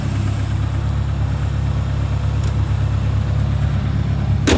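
Ford Escort engine with a faulty alternator, idling at a steady low hum, close and constant with a brief sharp noise near the end.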